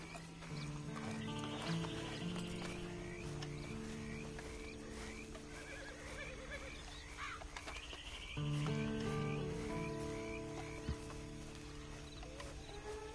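Continuous horse hooves clip-clopping at a steady pace over a humming, tonal game soundtrack, with faint neighing; no talking, in Red Dead Redemption 2 Online.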